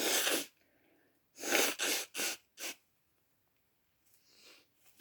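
Sneezing from a person after contact with flowers: one sharp sneeze, then a quick burst of three more, with faint breathy sniffs after.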